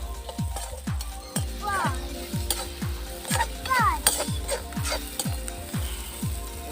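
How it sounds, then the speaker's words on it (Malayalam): Chopped onion sautés in hot oil for an elephant foot yam fry, a spoon scraping the pan in a steady, even rhythm about twice a second over a continuous close sizzle. "സവാള, നമ്മൾ അരിഞ്ഞു വെച്ച സവാള നമുക്കൊന്ന് വഴറ്റിയെടുക്കാം."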